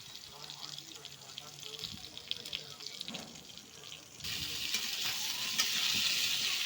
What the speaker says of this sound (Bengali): আমি এখন ফোড়ন তেজপাত দিয়ে এখন লাউ আর আলু কাটা আছে সেগুলো দিয়ে ভাজা ভাজা করে